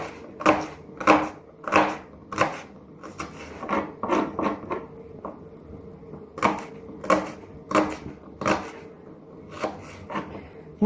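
A knife chops onion or shallot on a board in quick bursts of sharp, close, rhythmic thuds, pausing briefly midway before resuming.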